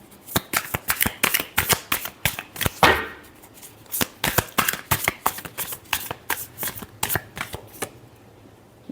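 Tarot cards are shuffled up close in a quick run of crisp, papery riffles and slaps, about two dozen sharp bursts in an uneven rhythm with no one talking.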